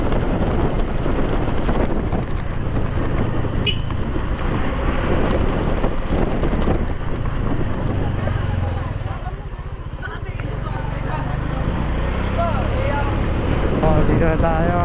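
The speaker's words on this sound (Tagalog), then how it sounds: "Lakas, lakas ng hangin." Strong wind gusting on a street in the Pateros area of Metro Manila, roaring as a steady, loud buffeting against the microphone that eases briefly before surging back, with a voice talking over it.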